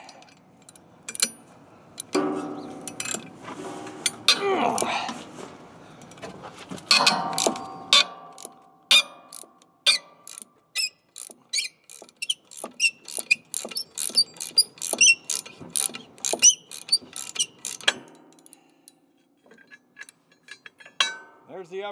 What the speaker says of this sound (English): start with an Allen wrench and make sure it's in there tight